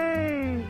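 A cat meows once, close and clear, in a short falling cry heard during a morning motorbike ride on a village road toward Padang.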